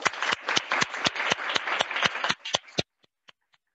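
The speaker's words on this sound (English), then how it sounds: "Let's give them all another round of applause." A small crowd at a model UN awards and closing ceremony claps in a quick run of distinct, fairly close hand claps that thins out, leaving a few scattered final claps before falling silent.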